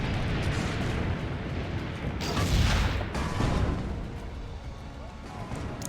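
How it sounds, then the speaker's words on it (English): Cannons fire in the video game Assassin's Creed Brotherhood, deep rumbling booms with a heavier blast midway, layered over a noisy game soundtrack while a player talks. "Aim for the cannons."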